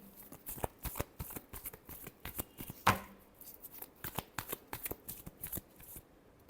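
Tarot cards are shuffled by hand in a quick, irregular series of soft riffles and slaps, close and fairly quiet, with one sharper snap partway through.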